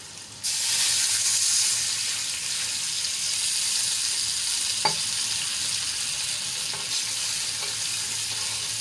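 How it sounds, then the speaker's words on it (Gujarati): Water poured onto sautéed green chillies in a hot pan bursts into a loud, steady sizzle that holds evenly, with a faint clink midway and no talk. "તો અહીંયા મેં પોણો ગ્લાસ જેટલું પાણી એડ કરી લીધું છે"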